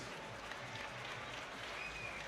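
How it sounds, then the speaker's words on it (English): A crowd at a YOKKAO 47 Muay Thai fight event applauds steadily after a bout, dense clapping and some cheering filling the space for a couple of seconds. "please, a massive round of applause for both fighters."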